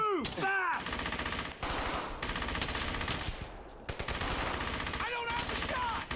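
Sustained automatic gunfire from a World War II shooter, Brothers in Arms: Hell's Highway, dense rapid bursts filling the scene nearly continuously, with brief shouted voices over the start and end.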